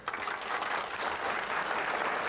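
Dense studio audience clapping at the German TV game show Das Glücksrad fills the space, a steady wash of many hands at moderate distance without any talking.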